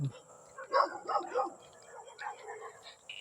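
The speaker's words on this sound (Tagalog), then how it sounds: "Ito mga aso dito." Several dogs bark and yip in short, overlapping bursts at moderate distance during a night power outage, with a faint high whine in the background.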